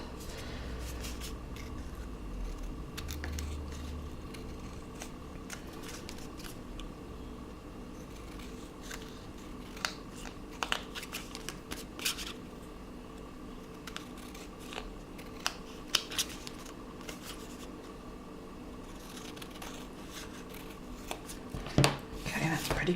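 Scissors trim around a paper artist trading card in an autumn craft session, producing scattered small snips and rustles over a quiet room with faint handling noises.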